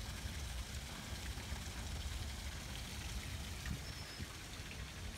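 Water from a small garden waterfall trickles and splashes steadily at low volume, a soft continuous wash with no voices.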